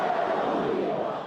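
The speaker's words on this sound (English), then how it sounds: "Death to America, this crowd is chanting." Crowd in the streets of Iran chanting in unison, a dense, steady roar of many voices at a distance that holds for the whole moment and fades slightly at the end.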